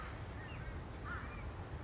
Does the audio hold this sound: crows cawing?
yes